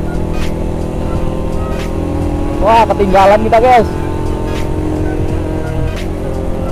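A Yamaha RX King motorcycle on a Sunday-morning group ride revs in a few sharp, rising bursts over a steady engine drone on the road, while people talk nearby.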